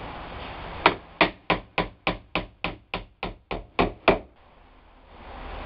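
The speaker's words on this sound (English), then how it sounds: "Then we nail the bottom, and then we'll come back up and nail that." Twelve sharp, evenly spaced hammer blows drive nails into wooden furring-strip trim on a shed wall, each strike ringing briefly before the next, then quiet.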